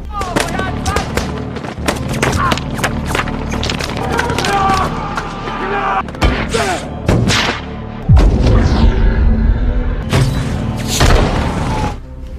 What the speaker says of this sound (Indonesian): Pasukan 17 Februari yang berjaga di luar pun berusaha melawan kelompok tersebut dengan aksi saling baku tembak.